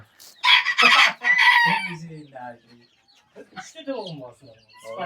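Bantam and ornamental dwarf chickens on a farm in Kokand: a rooster crows loudly up close, followed by scattered clucks and calls from the hens.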